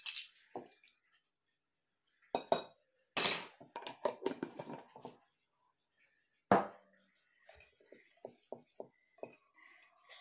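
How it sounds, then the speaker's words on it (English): Flour and salt for buttermilk biscuits being stirred in a bowl, with quiet scrapes, scattered clinks of a utensil against the bowl and a light tapping run near the end, heard close and faint. "Stir this all up together."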